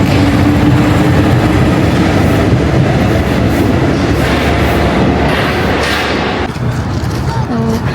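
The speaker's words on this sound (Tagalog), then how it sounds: "inside the metro nila" Paris metro train heard from inside a carriage, a loud steady rumble and rattle of the wheels running continuously throughout, with the noise easing slightly near the end.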